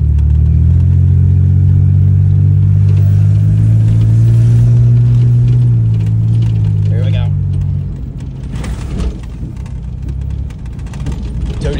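An off-road rig driving with a loud, steady engine drone and road rumble that eases off partway through, while people talk over it.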